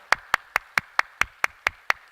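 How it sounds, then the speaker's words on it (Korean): Hands clap in a strict, even rhythm, about ten sharp close claps in quick succession, as a church congregation welcomes a new member; the steady beat suggests a single clapper more than a crowd. "우리 뜨겁게 박수로 환영하겠습니다"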